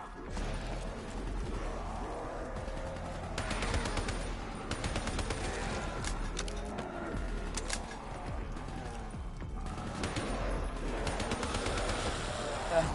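Rapid gunfire crackles at moderate distance in a zombie video game, bursts of shots and mechanical clatter layered over a steady game-ambience bed, fairly quiet overall.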